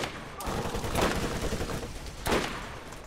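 Gunfire in the video game Borderlands aimed at a turret, two heavy bursts of shots over a continuous noisy game background.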